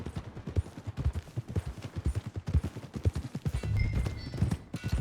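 Horse hooves clip-clop in a steady trotting rhythm in Red Dead Redemption 2, close and continuous across the whole stretch as the horse heads toward the stables, with some faint game ambience underneath.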